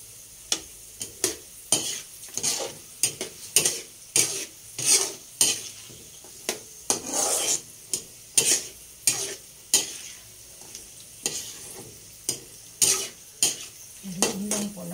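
A cooking mixture being stirred in a pan, with rhythmic scraping strokes of a utensil against the pan, about two per second, repeated steadily over a faint sizzle.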